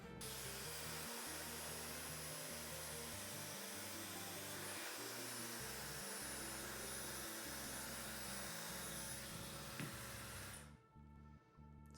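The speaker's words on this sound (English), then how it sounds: "I'm gonna grab the blow dryer and just try getting these little bits down." Hand-held blow dryer blowing hot air on the edges of a Nintendo Switch vinyl skin, a steady, close, loud whoosh and whine running continuously before cutting off near the end.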